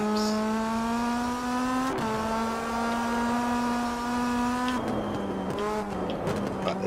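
Racing cars in the Rennsport sim game: a loud sustained engine whine holding steady pitch, a brief drop near two seconds, then gear shifts and tire scrub with shifting revs toward the end.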